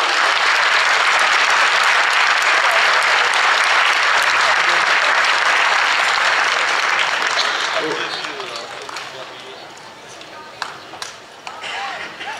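Loud, dense applause from an audience at a sports awards ceremony honoring award winners, sustained for several seconds before fading into scattered claps as a voice begins speaking.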